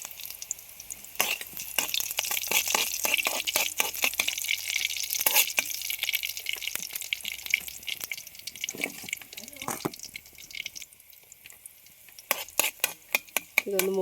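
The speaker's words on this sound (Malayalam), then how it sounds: "വെളുത്തുള്ളിയും പച്ചമുളകും ഒന്ന് മൂത്ത് വരണം" Garlic and green chillies frying in a pan for a spinach thoran, with a soft sizzle under repeated scraping stirs of a spoon against the pan, close and busy, with a few louder clatters near the end.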